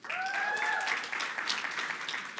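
An audience at a school debate event breaks into applause for a debate team member, a burst of clapping that starts strongly and then thins out over a couple of seconds, with a faint whistle-like tone near the start.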